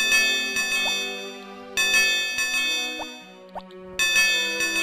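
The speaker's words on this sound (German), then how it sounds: "Grauenhaftes Glockengeräusch!" Bright chiming bells from the farming video game Harvest Moon: Back to Nature ring in repeated bursts with short pauses, loud and clear, alongside a low electronic music tone and a few plopping blips.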